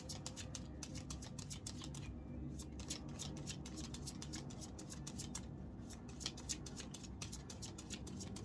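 Oracle cards being drawn and handled during a reading: quiet, steady run of soft papery flicks and rapid clicking rustles, close and continuous with no talk.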